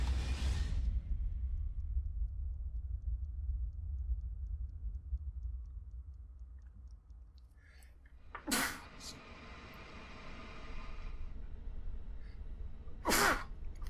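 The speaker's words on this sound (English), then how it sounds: "Super dramatic sneeze" A dramatic human sneeze bursts out loudly at close range, followed a few seconds later by a second sharp sneeze, over a low steady background hum with no talking.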